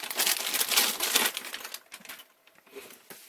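Loud, close crinkling of the plastic wrapping on a Braun Series 9 9050cc electric shaver, crackling steadily and then tapering into softer, sporadic rustles.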